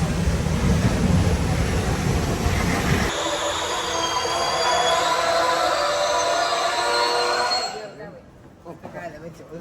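Passenger train on the Jaffna to Vavuniya line rumbles loudly, then wheels squeal in high sustained tones as it slows, the noise dropping away near the end; voices are heard faintly inside.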